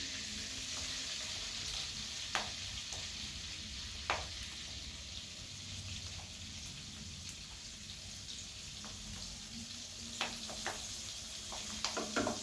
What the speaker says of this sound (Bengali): মাখনের মধ্যে আমি আর সাদা তেলের মধ্যে আমি রসুনটাকে বেশ লাল লাল করে ভেজে নিচ্ছি